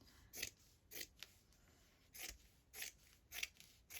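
Scissors snipping through the woven selvage edge of a piece of fabric, a handful of short crisp cuts spaced unevenly, close and quiet with no talking.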